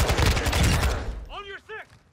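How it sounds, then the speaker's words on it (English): Enemy automatic gunfire in Call of Duty: Modern Warfare II rattles in a loud dense burst for about a second, then breaks off as a voice calls out. "Taking enemy fire!"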